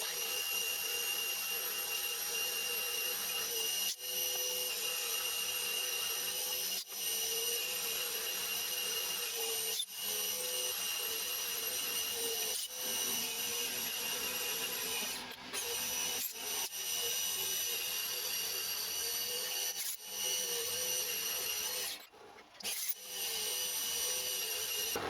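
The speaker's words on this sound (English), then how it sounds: "I haven't had this trouble before with this, but then again I've not drilled a hole this deep." A drill bores a deep hole into metal in a home machine shop, a steady loud grinding whir running throughout with brief dips and pauses, no talking.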